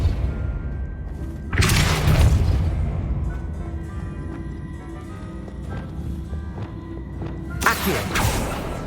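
Depulso spell cast in Hogwarts Legacy, heard as two loud bursts, a booming whoosh with thuds followed later by a second blast, over a steady game ambience.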